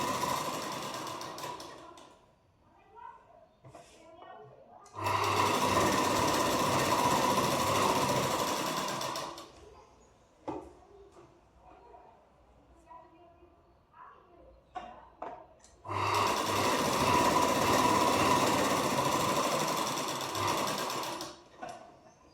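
A sewing machine runs in two long, loud stitching bursts of about five seconds each along a blouse lining, separated by quieter handling noises and faint talk.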